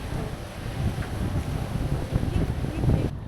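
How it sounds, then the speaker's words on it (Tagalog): Steady wind gusting at a waterfront pier in Canada, a broad continuous rush of buffeting noise filling the clip and cutting off abruptly near the end, with no speech. "Ay, mahangin. Mahangin kasi."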